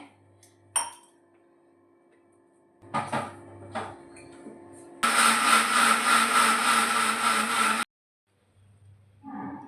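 A kitchen mixer grinder pulsing onion, garlic and ginger with water: a few clinks and knocks of the jar being handled, then a loud, steady, close whirring grind for about three seconds that cuts off abruptly, followed by faint handling sounds.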